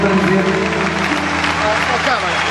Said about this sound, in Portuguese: Mas salva palmas à equipe técnica